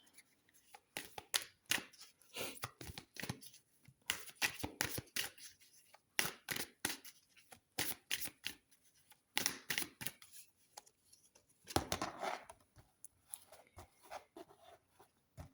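Tarot cards being shuffled for a reading: a long run of soft, irregular riffling and slapping bursts, close and fairly quiet.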